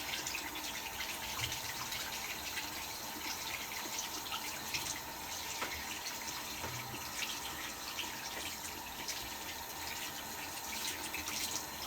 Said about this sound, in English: I'm going to stick my hands in the water and wash my hands